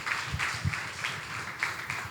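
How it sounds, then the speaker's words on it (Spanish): Congregation applause during a Spanish-language Bible study, a short stretch of scattered, fairly soft clapping with rhythmic hand claps standing out from the group. "Dale un aplauso al Señor."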